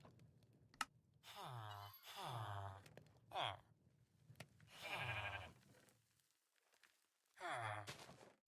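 Several sheep bleats from the Minecraft video game, clear and separate with pauses between them, each a wavering mid-pitched call, heard alone.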